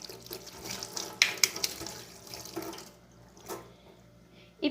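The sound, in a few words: tap water rinsing silicone molds in a sink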